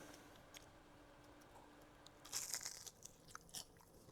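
Crunchy bite into battered fried pickles, a burst of sharp crackling near the mic followed by a few softer chewing crunches, with no talk over it.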